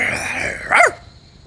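A dog gives one short, sharp bark out of a muffled, rumbling growl, heard close. Steady background noise runs underneath.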